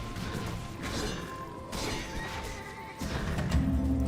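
A horse neighs in the video game Titan Quest, a brief whinny amid clashing combat and impact sounds, fairly faint in a busy game mix.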